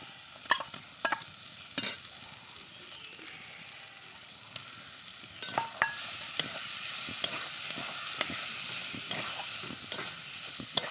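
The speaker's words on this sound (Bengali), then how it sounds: "আমি এইভাবে আস্তে আস্তে জাল দিয়ে এই যে মটরশুঁটি এটাকে ভালো করে ভেজে নিব।" Ground green peas fry in a pan after onions, with repeated sharp scrapes and taps of a spatula stirring over a steady sizzle, close and fairly loud.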